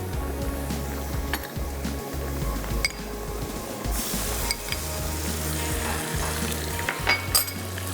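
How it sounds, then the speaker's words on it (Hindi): Onions frying in a pan for a caramel delight meat dish, a continuous sizzle with scattered clinks and scraping of a utensil against the pan. "चलिए, प्याज थोड़ी सी ब्राउन हो जाए।"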